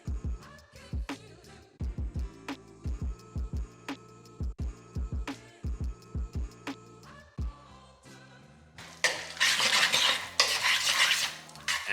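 A utensil scrapes and clanks against a skillet while pasta is tossed through tomato sauce in a steady, repeated rhythm of metallic knocks, then a louder stretch of sizzling and stirring rises near the end.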